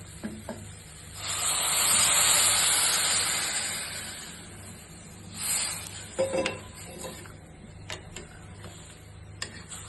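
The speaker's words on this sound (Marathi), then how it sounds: "त्या पाणी चांगला उकळलं की आता ह्याच्यात ओतूया।" Boiling water pours into a pressure cooker of ivy gourd rice with a rushing, sizzling hiss for a few seconds, then a shorter second pour and a few light clinks.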